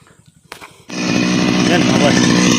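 A brief voice and clicks, then a small engine-powered cutter starts up and runs loudly and steadily, a close buzzing whine.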